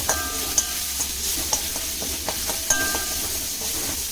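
Ginger and garlic sauté over low heat in a pan for Punjabi kadhi, a close steady sizzle broken by a few sharp spoon clinks and scrapes, with no voices.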